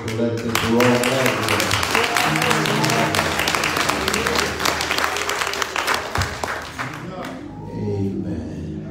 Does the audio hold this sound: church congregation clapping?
yes